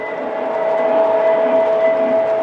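Lionel model trains run steadily on their track with an MTH DCS control setup, giving a continuous close rumble and hum with a thin whine and no pauses.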